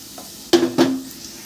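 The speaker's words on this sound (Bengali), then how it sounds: "পেঁয়াজটা ভালো করে ভাজা হয়ে গেছে লাল লাল হয়ে এসছে" Chopped onion frying in hot oil in a pan while a Bengali egg-and-brinjal bharta is being prepared, heard as two short close bursts of sizzling and stirring against a quiet background.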